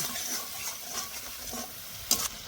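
Green and ripe red chili paste fries in a pan for a Bengali pabda fish dish in mustard-poppy sauce, a soft close sizzle with gentle stirring scrapes and one brief sharper clink near the end.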